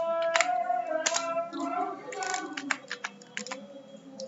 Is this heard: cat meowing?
no